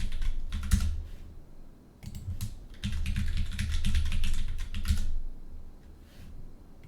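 Password typed on a computer keyboard, heard as close, rapid bursts of key clicks with short pauses between runs, loud and clear with no speech over it.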